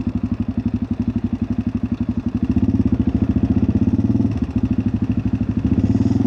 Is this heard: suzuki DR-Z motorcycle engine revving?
yes